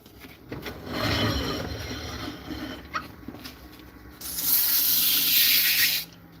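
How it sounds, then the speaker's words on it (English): Close, rasping sandpaper strokes on the rim of a wooden bowl, a few short passes followed by a longer, louder hissing stretch of sanding before stopping. "Just going to be very careful sanding around the rim."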